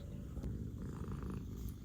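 A cat purring close by, a steady low rumbling purr that runs unbroken for about two seconds with no talking over it.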